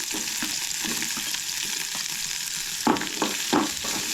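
Garlic and onion sautéing in a pan for a Goan-style vegetarian meal, a steady close sizzle with a few stirring scrapes toward the end.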